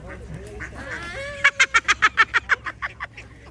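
A few soft bird calls from white birds at a lake in the Lake District, then a rapid run of about a dozen nasal honking calls that slow and fade toward the end.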